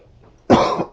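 A single sharp cough, close and loud, after a brief quiet moment.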